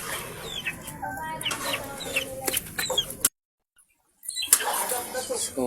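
Several chickens cluck close by in irregular bursts with occasional higher squawks, then the sound drops out completely for about a second before the clucking resumes.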